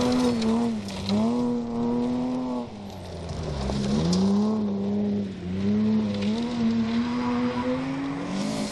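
A BMW rally car slides sideways along a gravel stage of the Malcolm Wilson Rally, its engine roaring continuously close by, revs rising and dipping as the driver works the throttle through the slide.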